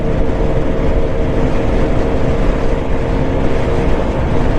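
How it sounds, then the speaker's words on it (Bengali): Apache 4V motorcycles race at high speed on a highway, making a loud, continuous engine roar mixed with rushing wind noise that holds steady throughout, with no voices. "সবাই বাইক টানতেছে এবং সব অ্যাপাচি রাইডার সব জায়গায়।"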